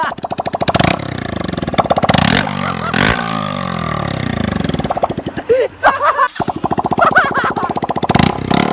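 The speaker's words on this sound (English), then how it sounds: "That is the best sounding bike I've ever heard." A Honda CBF125 motorcycle running with no exhaust fitted: a loud, harsh, rapid popping bark that revs up and down in bursts, with brief gaps, and a voice exclaims over it.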